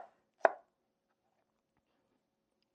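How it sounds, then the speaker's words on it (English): A knife gives tomatoes a rough chop on a cutting board for crockpot chili, one sharp close thunk standing alone in near silence. "I'm just gonna give them a rough chop."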